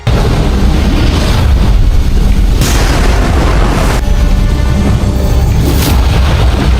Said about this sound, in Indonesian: Suara ledakan magma yang sangat dahsyat tiba-tiba memecah kesunyian di terowongan bawah menara pemurnian Qi